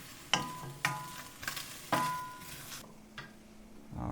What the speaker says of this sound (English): Let the veggies saute up.